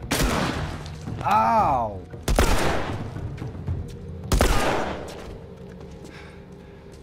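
Gunshots in The Last of Us Remastered, three loud sharp blasts spaced a couple of seconds apart, each trailing into a brief echo, with a voice crying out between them.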